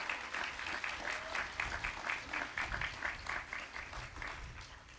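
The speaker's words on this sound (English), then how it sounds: "ease join me one more time in giving Srijana another round of applause." An audience at a university graduation ceremony applauds with a sustained crowd of many hands clapping. It stays steady and fairly loud for the whole clip, with no voices over it.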